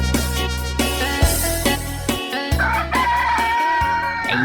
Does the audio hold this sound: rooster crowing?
yes